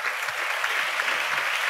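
A church congregation claps together in praise of Jesus, a dense, steady wash of many hands that stays loud and even for the whole stretch with no voices over it.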